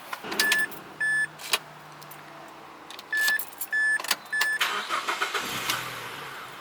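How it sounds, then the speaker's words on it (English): A car engine cranking and catching briefly after its kill switch wire is cut, with repeated beeping chimes, clicks and a short mid-pitched engine burst that dies away, heard close up with no talk. "let's go ahead and try and start the car."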